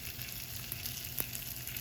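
Beets fry in a pan with a soft, steady sizzle, quiet and close, with a faint stirring scrape partway through.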